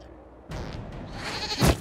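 A goat in the video game Dragon Age Inquisition gives a short, nasal bleat that rises to a louder cry at the end, heard close and alone.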